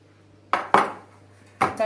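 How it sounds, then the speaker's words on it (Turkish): A metal baking tray of Turkish finger dessert comes out of the oven with a few sharp, close metallic clanks and knocks in quick succession. "25 dakika da pişirdiğimiz parmak tatlımızı fırından çıkarıyorum"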